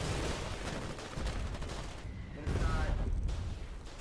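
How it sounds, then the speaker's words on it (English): Heavy artillery fire and explosions rumble through a Foxhole battlefield, a dense continuous barrage of booms and gunfire with short lulls, loud and close, with faint voices mixed in. "The artillery was zeroed in"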